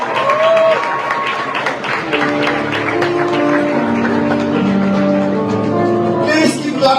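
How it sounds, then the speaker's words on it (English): Graduation ceremony audience applauding, sustained dense clapping from a large crowd throughout, with an amplified voice speaking over it and some cheering near the end. "Please keep clapping."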